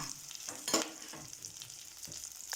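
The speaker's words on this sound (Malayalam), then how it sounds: "എണ്ണ ചൂടായി അതിലേക്ക് നമ്മൾ ഉള്ളി, വേപ്പില, വെളുത്തുള്ളി, ഇഞ്ചി, പച്ചമുളക് ഇതെല്ലാം കൂടി ഇത്തിരി ഉപ്പിട്ട് വഴറ്റുക." Onion, curry leaves, garlic, ginger and green chilli sautéing in hot oil with a little salt, a quiet sizzle with a few soft stirring scrapes.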